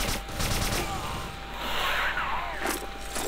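M16A4 rifle fire in the video game Crossfire, a few short bursts of shots mixed with in-game effects at a fairly low level.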